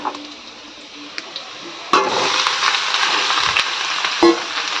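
Soybean chunks hitting hot oil in a home kitchen pan, a loud sizzle bursting in partway and holding steady, with a few clinks of utensils before and a stir near the end.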